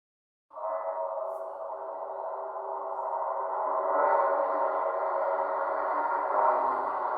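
A Proffie lightsaber with "The Darkness V3" sound font ignites with a sudden start and settles into a steady, humming buzz that swells slightly midway, continuous and fairly quiet.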